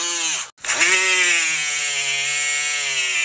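An electric buffer grinder runs steadily at high speed while resurfacing a clutch flywheel, giving a loud, continuous whine with dense harmonics, broken by a brief dip near the start before spinning straight back up.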